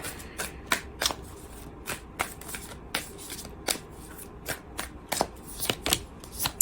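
Tarot cards are shuffled and drawn, with a steady run of crisp, close card riffles and snaps repeating in a loose rhythm.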